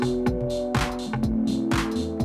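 Drums and synths run through a Generation Loss MkII lo-fi pedal in stereo mode, saturated and gritty: a steady droning synth tone with repeating drum hits in an even rhythm, loud and alone.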